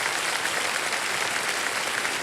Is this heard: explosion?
no